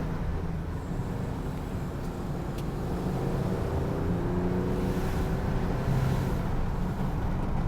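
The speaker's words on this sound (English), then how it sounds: "Here we are going up a hill, and let's see how this transmission reacts." A 2020 Jeep Gladiator Rubicon pulls up a hill, its engine droning steadily from inside the cab as the automatic transmission shifts up, with the pitch rising and settling again.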